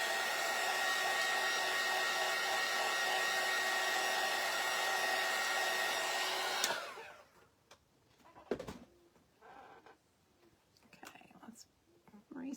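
A hair dryer blows steadily and loudly for several seconds while drying craft paint on a door hanger, then cuts off, leaving a quieter room with a few faint handling sounds.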